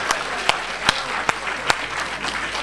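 An audience at a Kavi Sammelan poetry recital in Mumbai claps in a steady, evenly spaced rhythm. The sharp claps stand out over a low crowd murmur.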